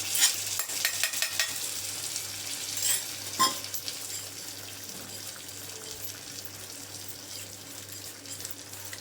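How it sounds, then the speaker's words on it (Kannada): Moong pongal is stirred into a sizzling tempering, giving a close, busy crackle with repeated scraping stirs that ease into a softer steady sizzle, with no talk. "ಇವಾಗ ಪೊಂಗಲ್ ಸೇರಿಸ್ಕೊಂಡ್ಬಿಡ್ತೀನಿ."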